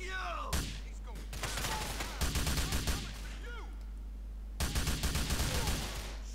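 Bursts of rapid gunfire from Grand Theft Auto IV, loud volleys in two main clusters with a quieter stretch between, a voice briefly heard over the shooting.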